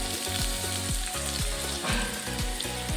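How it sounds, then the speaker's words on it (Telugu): A cup of onion fries in hot oil with a strong, close sizzle, broken by quick rhythmic scrapes and clanks of stirring. "కొంచెం ఫ్రై అవ్వాలి, గోల్డెన్ కలర్ రావాలి."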